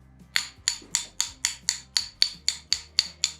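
Someone taps on a horse's hoof, about a dozen sharp, evenly spaced strikes roughly every third of a second, close and clear with no talk.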